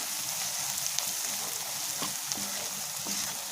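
Spice paste of ground chili and masala sizzles steadily while being sautéed for a dried loitta shutki (Bombay duck) bhuna, a continuous close frying hiss with a few soft stirring clicks.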